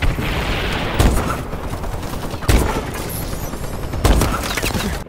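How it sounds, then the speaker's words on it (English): Explosions from a friendly bombing run in a shooter game land as three heavy booms about a second and a half apart, under continuous crackling gunfire and battle noise. "Friendly bombing run clearing the way."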